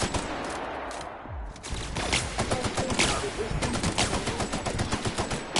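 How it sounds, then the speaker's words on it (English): Enemy gunfire in The Outer Worlds, a steady stream of rapid shots rattling fairly loudly through a sci-fi combat scene, with some faint speech mixed underneath. "now he's shooting at me"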